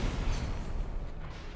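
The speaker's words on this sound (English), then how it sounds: "They have to take a cannon shot to finish him." Rumbling cannon fire from a shot in the strategy video game Symphony of War: The Nephilim Saga, a dense low boom sustained across the clip with no clear separate blasts.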